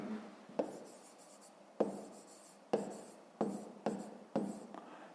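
A pen writes out a math solution on paper, with several short scratchy strokes, each starting with a sharp tap and then fading, close and quiet.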